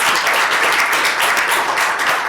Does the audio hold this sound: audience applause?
yes